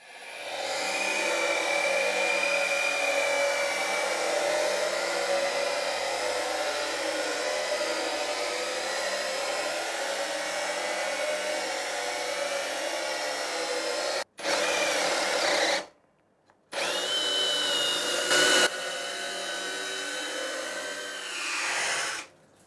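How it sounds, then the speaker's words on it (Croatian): A Ryobi R18PD7 cordless drill running on a 4 Ah battery bores into wood with a Forstner bit, giving a loud steady whine that holds for about fourteen seconds, stops briefly, then resumes in shorter bursts. No voices. "Ovdje ćemo otvoriti još jednu rupu sa Forstner bitom, samo ovaj put uz korišćenje baterije od 4 amper sata."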